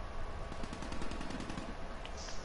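Rapid, sustained automatic AK assault rifle fire in Black Ops 3 crackles in a steady rhythm, fairly close but not loud, with no talking over it.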